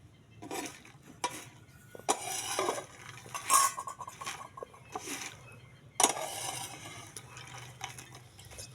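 Peanuts are stirred while roasting in a pan on a traditional clay stove, with irregular scraping and clinking strokes of a metal utensil against the pan and a low background hum.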